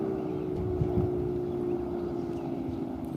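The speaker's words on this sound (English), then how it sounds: "Oh, there's a speedboat." A speedboat passes on a lake, its steady engine drone holding close and loud throughout with a faint wash of wind and water beneath.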